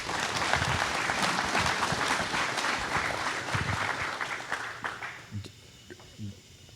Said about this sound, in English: let's give these guys a round